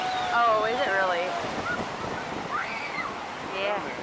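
Surf and gusting wind on a very windy Pensacola beach in April, a steady roar of waves with wind buffeting the microphone; birdlike or goose-like honking calls cut through near the start and end, with some talk nearby.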